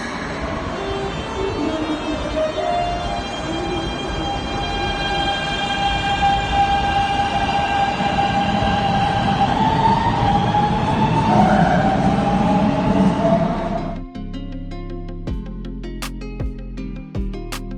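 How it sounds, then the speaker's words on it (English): An E501 series electric train in Japan accelerating, its motors whining upward through rising stepped tones like a musical scale, loud and close, then the pitch levels off as it rolls past. "once had trains that would play a scale as they would accelerate"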